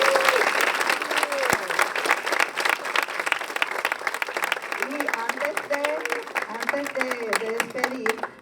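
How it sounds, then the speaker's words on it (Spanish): Audience applause for the maestro at a talk on music, dense sustained clapping from a crowd, loud and close, with a few voices and whoops rising over it. "vamos a darle un aplauso al maestro."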